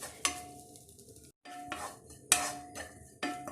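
Grated coconut roasts in a pan for coconut burfi with a soft sizzle. A spatula scrapes and taps against the pan in irregular strokes, with a brief silent gap midway.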